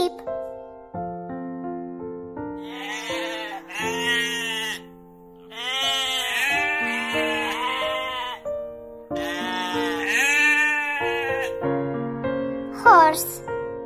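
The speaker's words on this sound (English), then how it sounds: "Sheep." Sheep bleating in a series of wavering, tremulous calls, fairly close and clear, with short pauses between cries and no talking over them.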